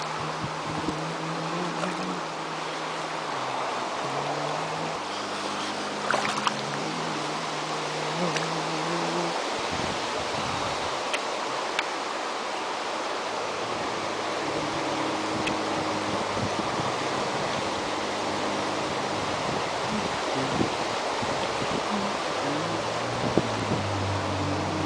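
Wind sweeps across open desert ground near a parked RV, a steady broad rushing roar that holds at a constant level for the whole stretch, with occasional buffeting gusts and no talk.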